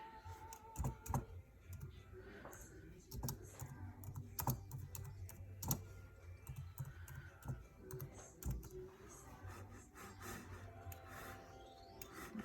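A computer keyboard is typed on in quick, uneven bursts of soft, close key taps against a quiet room background, with no voices.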